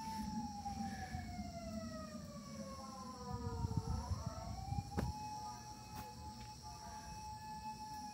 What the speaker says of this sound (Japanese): パトカーじゃないですか。